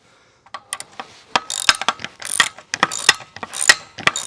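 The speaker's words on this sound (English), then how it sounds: "So I'm going to go ahead and remove those bolts." A ratchet wrench loosening the bolts holding a trailer tongue jack, making rapid clicking bursts of pawl ratcheting, close and loud, with short pauses between strokes.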